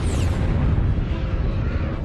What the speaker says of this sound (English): A supernova explosion is an incredibly powerful explosion.